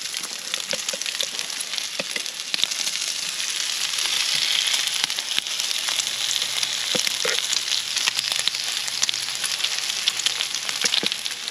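Bacon and pancake batter fry on a Blackstone griddle, a steady bright sizzle with scattered crackles and pops, close and continuous.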